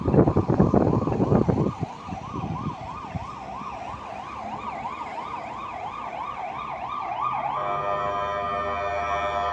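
An ambulance siren wails in a rapid rising-and-falling pattern, then switches to a steadier tone, heard at moderate distance over passing traffic noise.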